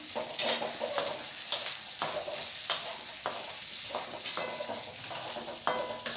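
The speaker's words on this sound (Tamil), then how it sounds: "தக்காளி வெங்காயம் எல்லாம் வதங்கி வரட்டும் நல்லா" Onions, tomatoes and coconut pieces sauté in a pan with a steady hiss and sizzle, punctuated by frequent light clacks of a spatula stirring, at close range with no talking.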